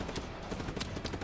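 Rapid, dense gunfire rattles loudly in Just Cause 3 over a short stretch, bursts overlapping in a continuous crackling barrage.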